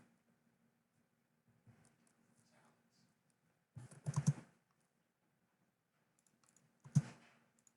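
Keys tapped on a computer keyboard during AutoCAD drafting work, sparse quiet clicks followed by two short bursts of closer, louder keystrokes in a quiet room.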